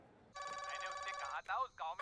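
A telephone rings in a home during a scene of family banter, its electronic trilling tone repeating loudly with short breaks, while voices speak over part of it.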